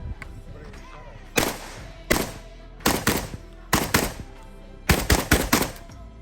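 Kalashnikov KS12-T semi-automatic 12-gauge shotgun firing outdoors, about ten loud, booming shots in quick bursts of one to three, each with a sharp crack and short ringing tail.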